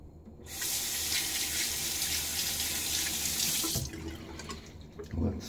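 Tap water running into a sink to add a few teaspoons to shaving lather during a wet shave, a steady close rush that cuts off near the end, followed by faint handling sounds.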